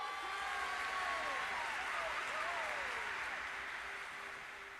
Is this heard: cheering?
yes